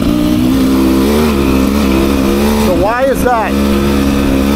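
Beta 300 RR dirt bike, a 2024 Race Edition, climbing a hill with a loud, steady engine drone that rises and dips in pitch, close to the rider, while someone speaks briefly over it.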